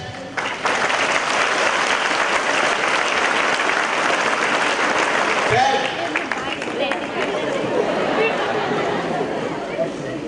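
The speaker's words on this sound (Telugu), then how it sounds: "Clap hands." An audience at a motivation camp claps together in a loud, sustained burst of applause that thins into scattered clapping, with voices and crowd murmur mixed in.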